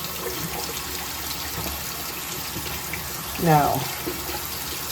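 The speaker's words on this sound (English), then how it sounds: "you want to wash the acid off your cup before you take off the vinyl" Tap water runs into a kitchen sink while etching cream acid is rinsed off a glass cup, a steady wash with a short louder splash near the end and a brief word spoken over it.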